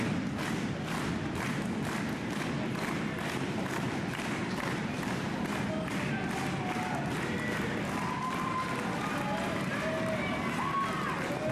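A 1996 Atlantic Wrestling Federation championship crowd in Raymond, New Hampshire, roars steadily and loudly throughout, with thumps and scattered shouts, and a commentator's voice faintly underneath.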